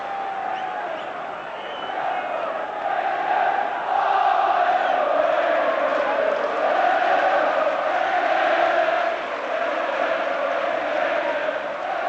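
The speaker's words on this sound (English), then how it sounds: "This is good support from the crowd." Football crowd at a Liverpool vs Genoa match roaring and chanting in a steady, swelling wash of voices, loud and continuous throughout without pause.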